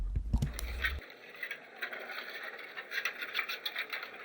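Omnisphere's Enchanted Garden Leaves 1 noisescape texture with no effects, a faint airy rustle of crackly, leafy grains fluttering irregularly after a brief low thump at the start.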